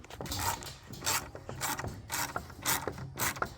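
A screw is driven into a wooden birdhouse with a ratcheting driver, giving a run of repeated clicking, grinding turns in an even rhythm, close and fairly quiet.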